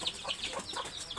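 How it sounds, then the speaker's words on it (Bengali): Cock chickens kept on a bird farm give repeated short clucks and calls, fairly close, with no talk over them. "এটা হচ্ছে কক মুরগি"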